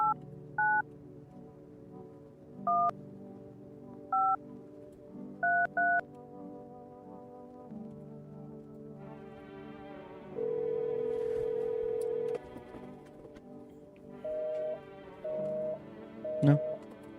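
A telephone number is dialed in a video game: short keypad tones come in pairs and singles, then a long steady tone and more beeps, all over a low background hum and music.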